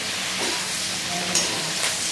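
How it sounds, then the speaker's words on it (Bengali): Tomato, green chilli and capsicum fry in a pan with a steady, close sizzle and hiss, and a brief stir partway through. "এরপরে আমি দিয়ে দেবো এর মধ্যে টমেটো আর কাঁচা লঙ্কাটা, যে আবার কিছুক্ষণ ভাজা ভাজা করে নেব"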